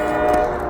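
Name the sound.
train horn of an approaching train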